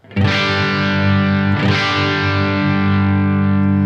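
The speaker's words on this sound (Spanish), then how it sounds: "lo lleves a un punto en el que empiezas a sentir la saturación, la distorsión, como que se empieza a rasgar un poco el tono" An electric guitar rings out through an amplifier pushed into slight distortion, with a loud strummed chord that sustains, a second strum partway through, then a long even decay with no talking.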